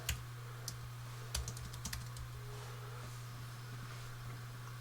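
Computer keyboard keys are tapped in short bursts while an admin username and password are entered, the clicks close over a steady electrical hum, with no talking.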